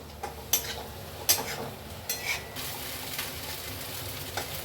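Salted potatoes being stir-fried in a pan with peanuts, a steady sizzle broken by a few sharp scrapes and clinks of a spatula against the metal, close and alone with no talk.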